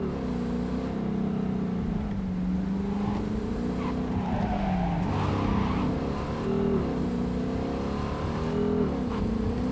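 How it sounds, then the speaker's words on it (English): In Cyberpunk 2077, a police car's engine drones and revs steadily with shifting pitch, tires occasionally squealing, driving continuously without pause. "Another city, another cop car."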